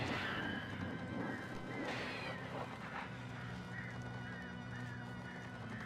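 Birds in the game Alan Wake Remastered give repeated high squawks and cries over a dense, steady game soundscape with a low rumble, with no talking.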